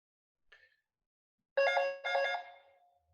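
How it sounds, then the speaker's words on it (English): A doorbell rings with two loud, close tonal chimes in quick succession, after a faint short tone; no one talks. "I'm just gonna wait for the doorbell to stop ringing"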